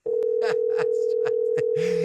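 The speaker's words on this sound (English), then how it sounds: "And the phone is ringing." A telephone line gives off one continuous steady electronic tone, loud and close, while faint clicks and noises flicker beneath it.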